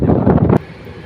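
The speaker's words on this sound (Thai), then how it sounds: "ลมพัดแรงมากนะครับ" Strong wind buffets the microphone near a construction site behind the Bang Pa-in industrial estate, a loud roaring burst that cuts off abruptly after about half a second.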